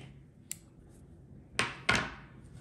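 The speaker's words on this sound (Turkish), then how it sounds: "Makasımızla keselim şurayı." Scissors snip through amigurumi yarn after the legs of a crocheted toy dog are tied together, giving two quick, close crisp cuts in a quiet room, preceded by a faint small click.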